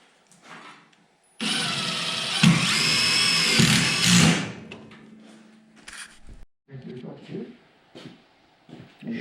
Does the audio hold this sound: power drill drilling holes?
yes